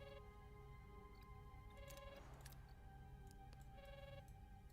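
A comms-request phone in the Star Trek: Voyager – Across the Unknown video game rings steadily, a synthetic, multi-tone electronic ringtone that repeats in bursts over a low hum.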